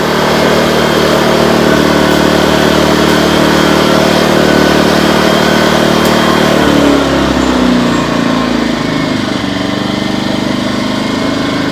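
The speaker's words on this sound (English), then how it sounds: "I'm going to put it on eco mode because that kind of makes it idle." A Firman 2000 portable inverter generator, model W01682, runs loud and close, then drops to a lower, quieter drone partway through as it switches into eco mode, with no talking.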